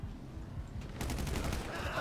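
Rapid gunfire in the video game GTA 5 during an online gang fight, starting after a second as a dense continuous burst of shots that stays loud to the end.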